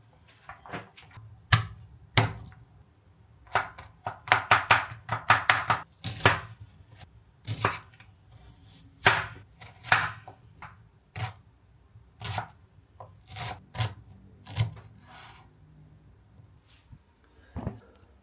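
A knife chops onions on a board for chicken adobo, sharp uneven knocks that come in quick bursts with short pauses between, close and clear.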